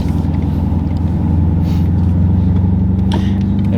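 Modified 600 hp 2013 Cadillac CTS-V engine while driving, a steady low droning hum inside the cabin with constant loudness throughout, no talking over it.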